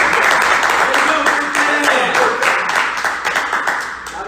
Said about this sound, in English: So give it a round of applause for yourself.